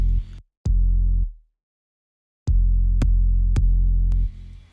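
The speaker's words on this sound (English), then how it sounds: "This is the sub right here." A deep, soloed sub bass synth from a beat plays alone, with sustained booming low notes broken by gaps and a burst of short repeated hits near the end.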